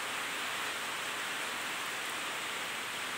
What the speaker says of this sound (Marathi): बघा खूप पाऊस चालू आहे बाहेर,